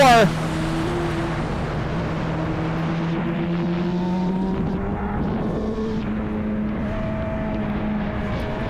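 Vintage racing motorcycles on a track in a vintage open race, with a steady engine drone and shifting tonal pitch as the bikes battle, heard loud and continuous throughout with a commentator talking over it.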